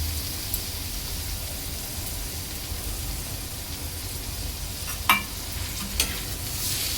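Chopped onion and finely chopped green chilli frying in oil, a constant close sizzle with a couple of sharp utensil clacks near the end.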